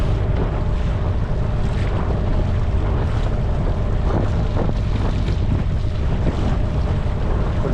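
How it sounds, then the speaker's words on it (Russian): Strong wind and choppy waves around a small fishing boat out trolling, a loud, constant roar of wind buffeting the microphone with water slapping and splashing against the hull. "Друзья, что-то ветер вообще усилился."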